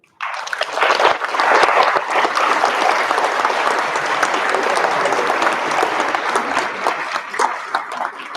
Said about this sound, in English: If you could give a big round of applause to Century.